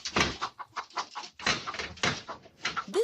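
Chickens at a hillside home in Utah cluck and squawk in agitated, uneven bursts, close and fairly loud, while a sow black bear with two cubs goes after them; no talk over the flurry.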